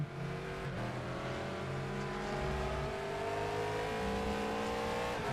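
LMP2 prototype race car heard onboard at the Nürburgring, its engine wailing through rising gear-by-gear pitch sweeps with sharp shift breaks, loud, close and continuous.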